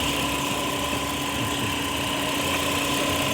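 A Kia Rondo idles with its AC compressor running, a steady mechanical hum with a faint tonal whine that holds constant and fairly loud throughout.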